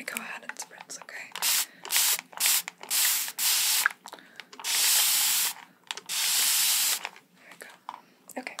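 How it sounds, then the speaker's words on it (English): Spray bottle spritzing hair during a fast haircut, a run of short hissy bursts followed by two longer sustained sprays, close and crisp, with soft whispery movement between. "Side and then I'm gonna go ahead and spritz, okay?"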